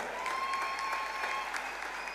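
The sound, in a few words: audience applause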